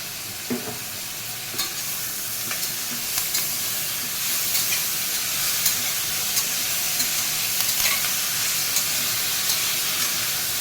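Tomato sizzling in a pan for Andhra-style kakarkaya pulusu, a soft continuous frying hiss with light scattered crackles and occasional stirring clicks, no voices.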